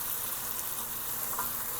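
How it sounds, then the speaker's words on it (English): Curry spices for Guyanese curry chicken fry and get stirred in a pot, giving a steady, close, even sizzle that runs unbroken with no voices. "Just keeping on stirring and stirring."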